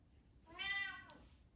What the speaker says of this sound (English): I apologize for my cat that you hear meowing in the background.